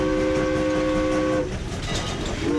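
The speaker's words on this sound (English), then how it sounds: "There's the whistle a-calling." Steam locomotive whistle on the Strasburg Rail Road, a sustained multi-tone chord blowing for over a second before breaking off, then returning faintly, over steady rumbling train and rail noise.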